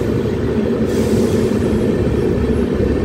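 An EF12K-hauled express from Howrah rolls into Bankura station, its steady low rumble of wheels and carriages loud and close throughout, with no one speaking.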